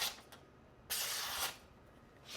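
A freshly sharpened knife with a half bolster slicing through a sheet of paper, heard as one close, dry hiss lasting about half a second, with a few faint rustles before it.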